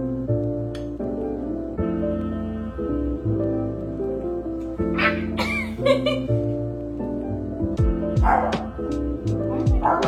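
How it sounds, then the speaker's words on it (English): A dog barks in a few short bursts, loud and close, over steady background music, with no talk during the barks. "Barking."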